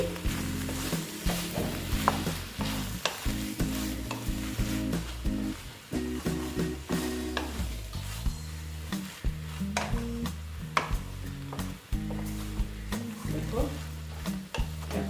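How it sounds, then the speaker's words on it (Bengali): Banana flower curry cooked vegetarian with ghee is stirred in a pan, a spatula scraping and clinking in steady repeated strokes over a soft sizzle. "যেহেতু নিরামিষ দিয়ে অল্প নেড়ে চেড়ে নিচ্ছি"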